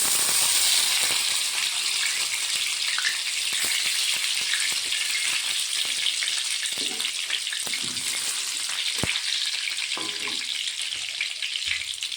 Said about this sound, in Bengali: কড়াইতে দিয়ে দিয়েছি সাদা তেল। দিয়ে দেব কটা রসুন কুচি, লঙ্কা কুচি একসঙ্গে।